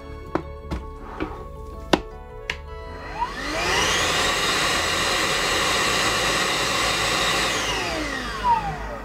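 A few sharp knocks and clicks, then a Parkside PNTSA 20-Li A1 cordless wet/dry vacuum motor whirs up and runs steadily with a high whine before spinning down.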